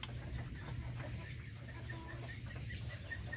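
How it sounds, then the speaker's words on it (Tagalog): Darag native chickens cluck softly and intermittently at a distance, with faint farmyard background noise throughout. "yan po ang ating darag native chicken"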